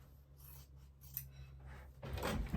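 Scissors cutting quilt fabric for a precut quilt: several quiet, close snips and rubbing slices over a faint hum, ending in a louder rustle, with no talking.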